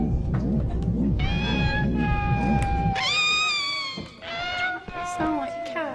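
Pixies in a Harry Potter video game give shrill cat-like meows and wailing cries, several overlapping calls close up that rise and fall over chaotic noise, with a voice speaking partway through.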